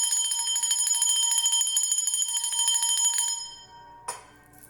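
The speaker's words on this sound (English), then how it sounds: "So ringing the bell scatters any dark energies that may be lingering" A small hand bell rings rapidly and continuously in a bright, close jangle for about three seconds, then stops, followed by a single soft knock.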